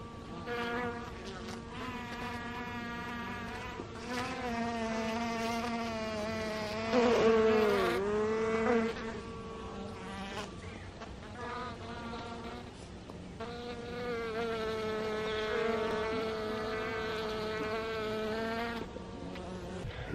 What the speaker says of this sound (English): they're actually picking up the dead bees and flying them out of the beehive